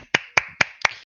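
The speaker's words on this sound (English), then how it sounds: "Round of applause for Mark P." A few sharp handclaps at a community committee meeting, four evenly spaced claps over about a second, close and fairly loud with no talking.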